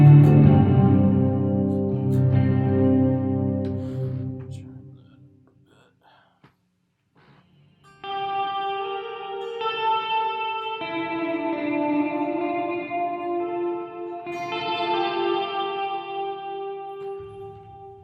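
An electric guitar played through a reverb effect pedal in a shoegaze rig rings out in washy, echoing chords that sustain and fade into near silence, then swell again with shimmering layered notes.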